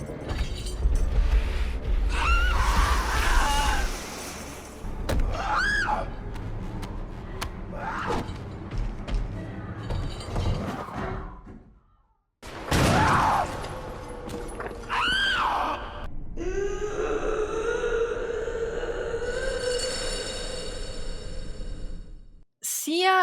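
A Resident Evil 9 monster gives drawn-out creaking, groaning screams over rattling chains and metallic scrapes, loud and reverberant, with a brief drop to near silence midway before the cries resume.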